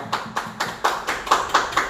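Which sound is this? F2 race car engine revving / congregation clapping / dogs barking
congregation clapping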